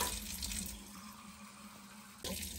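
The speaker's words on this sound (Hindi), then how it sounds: "हम लेंगे पहले पानी के 15 कप।" Water running steadily into a cooker for making biryani at home, a continuous faint rushing fill that stops briefly near the end and then resumes, with no talk.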